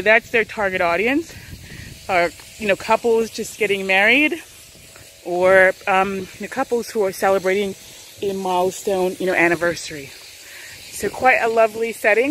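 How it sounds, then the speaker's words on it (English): A power washer runs nearby at a resort in St Lucia, a steady broadband hiss sustained beneath someone talking throughout. "they're doing some power washing over there."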